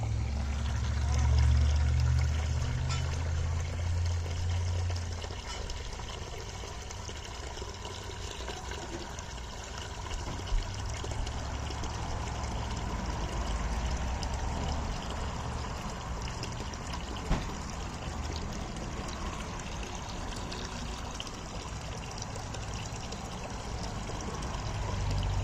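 Water pouring and swirling in a bucket while claim dirt is panned at home, a continuous sloshing wash with trickles and occasional splashes, steady and close, no voices.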